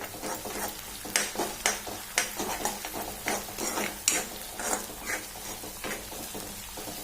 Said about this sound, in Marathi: आलं, लसूण, हिरवी मिरची आणि कोथिंबीरची पेस्ट थोडीशी अर्धा चमचा घातलेली, ती पण छान फ्राय करून घेऊ.